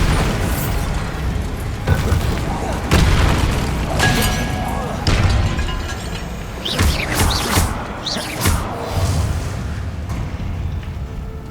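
Bombarda spell explosions in Hogwarts Legacy, a string of deep booming blasts and crackling bursts through the scene, loud and layered under a character's spoken lines.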